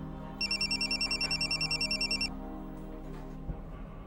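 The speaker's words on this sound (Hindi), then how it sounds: "एक मिनट, फोन आ गया।" A telephone ringtone sounds alone for about two seconds in a steady pulsing electronic ring from an incoming call during an indoor drama scene, then stops over faint room tone.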